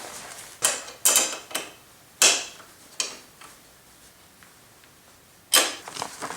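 A wrench tightens bolts on a KLR650 motorcycle with short ratcheting clicks and metallic creaks, arriving in separate bursts with quiet gaps between them.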